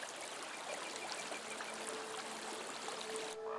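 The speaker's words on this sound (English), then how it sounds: "It cascades along a series of rock pools before entering the sea." Hot spring water, emerging at around 50 degrees Celsius on Vancouver Island, cascades steadily along a series of rock pools into the sea, a continuous close rushing trickle and splash with no voices.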